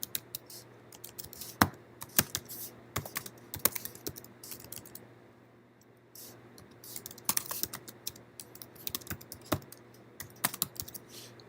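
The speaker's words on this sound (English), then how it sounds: "here if we type in an address" Someone types an address on a computer keyboard in bursts of quick, crisp key clicks with a short pause between them. The typing sounds close and clear against a quiet background, with no talking.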